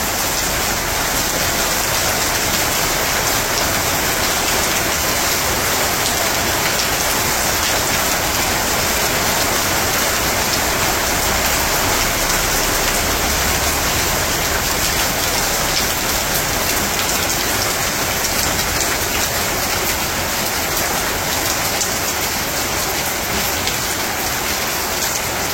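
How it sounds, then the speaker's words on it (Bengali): Heavy monsoon rain in Bangladesh pours steadily onto surfaces, a dense, unbroken hiss of countless drops that stays loud and even throughout with no other sounds. "তো বাড়িতে আসলাম, আবার বৃষ্টি শুরু হইলো।"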